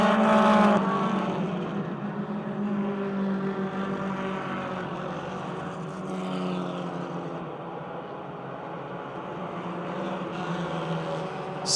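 Race cars at Motordrome Speedway roar past in a continuous loud drone, with engine pitch shifting as they pass and a sharper burst at the start.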